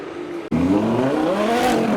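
BMW M140i hatchback wearing M2 front and rear bumpers at a track event, its engine note climbing steadily and loud up close after a brief cut, a strong droning roar throughout.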